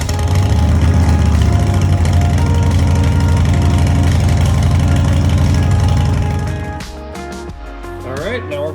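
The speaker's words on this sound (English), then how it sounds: "We're gonna fire it up" A 2016 Harley-Davidson Street Glide motorcycle engine idles after an oil change, a loud, steady low rumble with a loping beat that drops away near the end as a voice speaks briefly.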